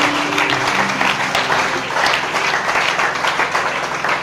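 A church congregation breaks into sustained applause and clapping, a dense, steady wash of many hands continuing throughout with faint voices mixed in.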